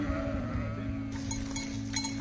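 Sheep in a herd in the Jordan Valley bleat faintly in the middle distance, over a constant low droning hum and background noise, in a short stretch with no speech.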